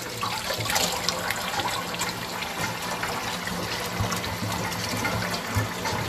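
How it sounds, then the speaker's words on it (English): Water runs and drains from a kitchen sink during sea moss cleaning, a steady close rushing and trickling wash that continues throughout without pause. "So let this water out."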